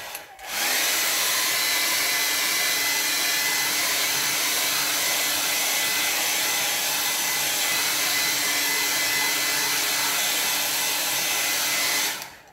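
Hair dryer blowing on a wet watercolor landscape painting, a loud, steady, close whoosh that starts abruptly, holds constant for about eleven seconds, then switches off.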